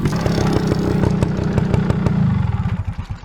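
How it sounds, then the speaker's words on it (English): A vintage Beta Synt trial motorcycle engine runs steadily close by, a rapid two-stroke putter with regular pulses that loosens into separate chugs near the end. "Did you notice the motorcycle was running?"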